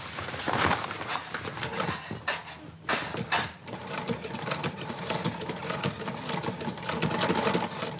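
Industrial sewing machines stitching zigzag seams in sailcloth at a sail loft, a dense, loud mechanical chatter running continuously throughout with rapid rhythmic needle pulses and a brief dip partway through.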